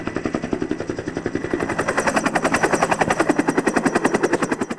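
Police helicopter airlifting a wounded GRP agent from San Vicente, its rotor beating in a fast, regular chop that grows louder and stays close and steady throughout, with no voices.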